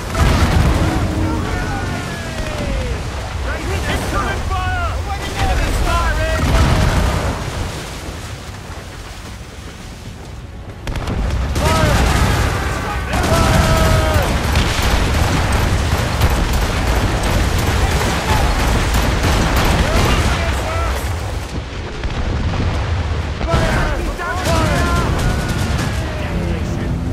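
Naval battle in Assassin's Creed Rogue, with ship cannons firing in dense, overlapping booms and bursts, mixed with shouted voices and a steady din of combat throughout.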